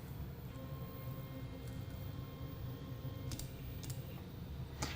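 G-code commands typed on a computer keyboard during 3D printer calibration: quiet, sparse key clicks with a few sharper taps toward the end, over a steady low background hum.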